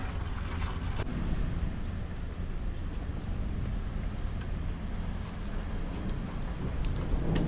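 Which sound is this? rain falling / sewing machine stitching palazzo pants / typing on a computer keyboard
rain falling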